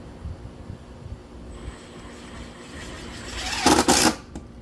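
A screw is driven into an overlap picket on a wooden fence gate, with a brief, loud burst of drilling near the end after quieter handling noises and faint background hum.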